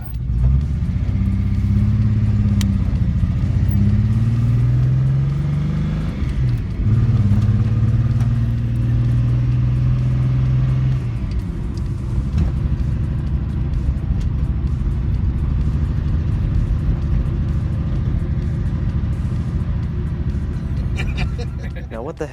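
A Datsun car with weak brakes drives along, its engine droning loudly and shifting pitch as it accelerates through gears, then settling into a steady hum, with someone talking over it.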